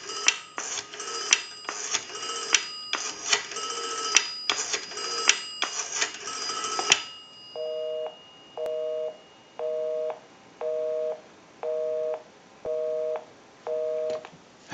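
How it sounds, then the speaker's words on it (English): Rapid touch-tone dialing beeps come first from a Northern Electric 233QF three-slot payphone, followed by a steady, evenly spaced busy signal pulsing about once per second. "We'll call my number and it'll be busy."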